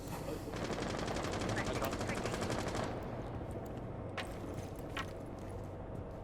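Sustained automatic gunfire in Rainbow Six Siege, a dense rattling burst for about three seconds, followed by a few scattered single shots and quieter clatter, with voices murmuring underneath.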